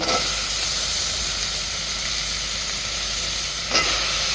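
Bottle gourd goes into a tomato curry in a pan, giving a steady, loud hiss of sizzling frying that runs throughout, with a brief surge near the end and no talk.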